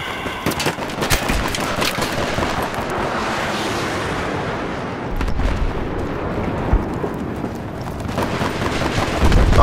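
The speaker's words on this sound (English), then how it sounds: "I'm being shot in the back" Constant gunfire rattles through a Battlefield 3 match, dense bursts of shots and distant blasts blending into a loud, unbroken wall of battle noise with no clear pauses.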